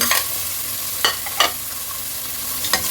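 Onion and garlic sauté in a pan for a Filipino vegetable dish, giving a steady close sizzle broken by a few sharp stirring scrapes, with no voices.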